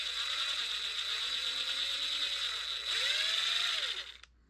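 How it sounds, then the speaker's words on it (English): Hand drill or brace boring a hole in wood for a tool handle, a steady ratcheting, whirring grind that runs continuously for about four seconds, close and alone, before stopping abruptly. "I'm going to drill a hole for the tool."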